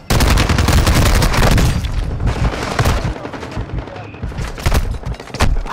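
Rapid bursts of gunfire from a Call of Duty: Modern Warfare II match, loud and dense with overlapping shots and booms, easing slightly mid-clip before sharp shots return.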